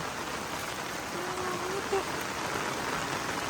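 Heavy storm rain pours steadily on a flooded road where the drainage pipe is blocked, a dense, continuous hiss at close range, with a brief louder splash near the middle and no talk.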